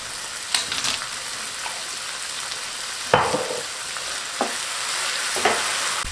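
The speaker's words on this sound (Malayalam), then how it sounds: "നമുക്ക് ക്യാബേജ് ക്യാരറ്റ് ഇട്ട് ഒന്ന് മിക്സ് ചെയ്തെടുക്കാം" Cabbage and carrot stir-frying in a pan for homemade atta noodles, a steady sizzle broken by several sharp scraping strokes of the spatula, close and alone with no talk.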